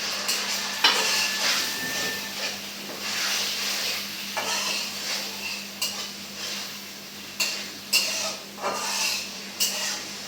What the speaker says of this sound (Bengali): পেঁয়াজ বাটাটা তেলের উপরে ভেজে নিতে হবে যাতে পেঁয়াজের কাঁচা স্মেলটা চলে যায়